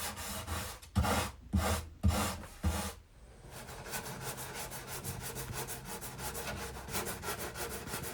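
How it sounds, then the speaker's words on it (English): Hand sanding on a 1973–1975 Gibson J50 Deluxe acoustic guitar with fine-grit paper: four loud, separate back-and-forth strokes come first, then a long run of quicker, lighter, rhythmic rubbing. "I started with 240 grit up to 3000 just to make it smooth"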